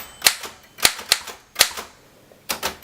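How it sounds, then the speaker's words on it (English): A 1928 Remington Portable typewriter types a handful of sharp, close mechanical key strikes at an irregular pace, with a quick pair of strikes near the end. "So now we're ready to type."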